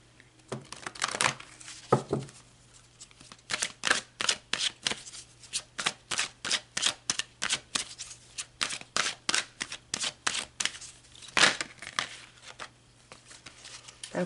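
Tarot cards shuffled by hand, close and crisp, in bursts of rapid riffling flutters, with a steady low hum underneath.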